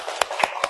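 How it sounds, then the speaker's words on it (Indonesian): Three sharp, evenly spaced hand claps ring out close by in a quick rhythm at a teachers' gathering, with faint talk underneath. "Tepuk tangan untuk kita semuanya"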